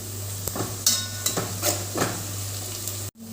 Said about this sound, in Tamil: இந்த பதம் வர மாதிரி நல்லா கிளறி விட்டுக்கோங்க